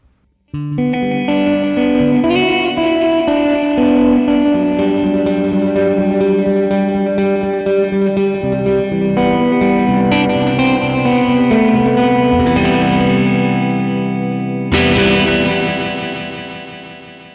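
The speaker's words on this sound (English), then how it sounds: "there's an interesting rhythmic difference when you have the reverb first versus the delay first" Sustained electric guitar chords through reverb and delay pedals run in parallel, drenched in echoing delay and lush reverb, notes smearing and repeating into a wide wash, with a brighter strum near the end.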